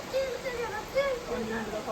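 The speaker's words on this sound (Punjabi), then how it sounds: "ਇੰਨਾ ਤੇਜ਼ ਮੀਂਹ" Heavy rain during a stormy spell in Italy makes a steady, dense hiss throughout, with people talking over it.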